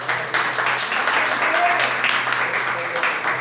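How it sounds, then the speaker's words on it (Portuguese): A church congregation applauds during a sermon service, a dense steady wash of clapping hands filling the room, with a low hum underneath and no clear speech. "E as palmas louvam ao Senhor."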